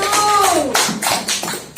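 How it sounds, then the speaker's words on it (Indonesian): A class of schoolchildren claps briefly for a group of classmates, a short burst of uneven claps heard close by, partly overlapping a voice. "Berikan tepuk tangan dulu untuk kelompok 1."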